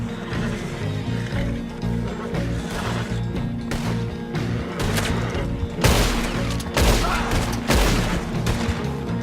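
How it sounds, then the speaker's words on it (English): Guns firing in the online Western game Red Dead Online, several sharp loud shots cracking out over a steady, busy background of game ambience and music. "My gun keeps shooting extra bullets and I don't know why."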